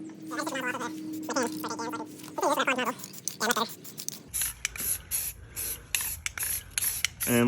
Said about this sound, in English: same deal with the tan spray paint